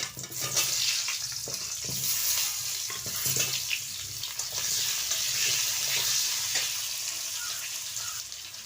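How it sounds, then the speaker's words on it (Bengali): Potatoes fry in hot oil in a wok, giving a steady, close sizzle with occasional crackles and scrapes, without speech. "কড়াইতে আমি তেলটা দেব, আলুটা ভেজে নেব।"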